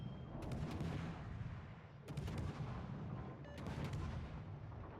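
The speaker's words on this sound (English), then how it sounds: "Very cringe blind fire here" Heavy gunfire in an online tank battle game, several deep booming shots spaced about a second and a half apart over a constant low engine rumble, moderately loud.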